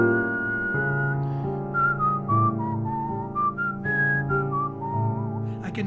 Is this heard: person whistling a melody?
yes